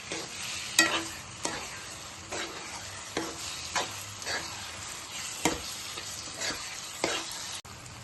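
Fried cauliflower stirred into a thick curry in a pan, with spatula scrapes landing roughly every half second over a soft, continuous sizzle, close and fairly quiet.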